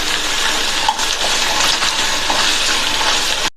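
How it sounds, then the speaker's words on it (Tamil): Potatoes go into hot oil in a pan and fry with a loud, steady hiss and crackle that stays close and even throughout, with no voices. "எண்ணெய் சூடாயிடுச்சு. கொஞ்சமாக உருளைக்கிழங்கு சேர்த்து ஃப்ரை பண்ணிக்கலாம்."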